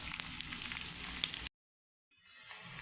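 Eggplant frying in oil in a pan until golden, a steady close sizzle that cuts out briefly and then returns.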